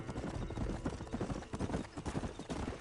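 Horse hooves clip-clopping at a steady trot in the Western video game Red Dead Redemption, a continuous rhythmic beat of close hoofbeats with an occasional snort or whinny and no talking.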